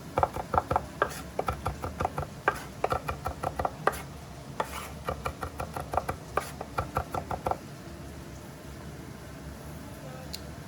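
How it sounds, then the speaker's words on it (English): A knife chops garlic with a pinch of salt on a cutting board in a home kitchen, giving quick, rhythmic close knocks in bursts for about eight seconds before it stops. "So we're just going to chop it up as best we can."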